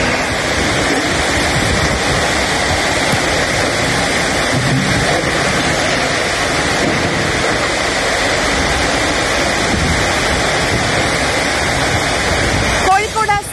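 Heavy rain in Kozhikode and Wayanad, Kerala, pours as a dense, loud, unbroken roar for the whole stretch, with a few faint voices underneath near the end.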